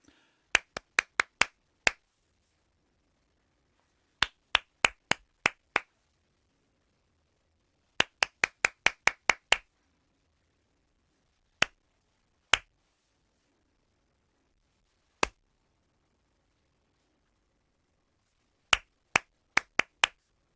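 Sharp hand claps from a choir's concentration clapping game ring out in short rhythmic bursts of four to seven, separated by pauses, then sparse single claps, crisp and close against near silence.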